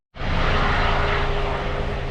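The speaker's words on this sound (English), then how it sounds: "Helicopter going up." A helicopter lifts off over the foreshore of the Bristol Channel at Cardiff, a loud, steady engine and rotor roar that starts suddenly and holds constant.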